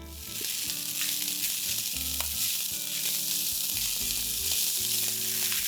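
Day-old rice and fresh corn hitting a hot pan: the sizzle swells within the first half second into a loud, steady hiss, with spatula scrapes and knocks as the mixture is tossed.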